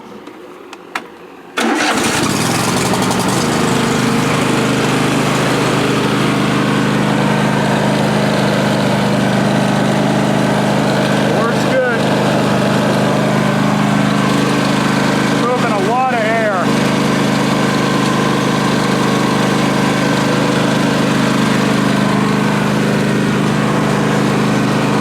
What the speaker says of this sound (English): I have to turn the tractor on.